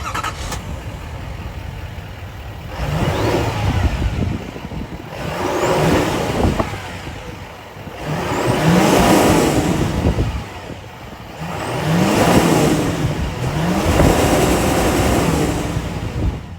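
A 2024 GMC Sierra 2500 AT4 heavy-duty pickup's 6.6-liter V8 Duramax diesel starts and runs, with four loud rev surges rising and falling between steady idle, close to the microphone with no talk.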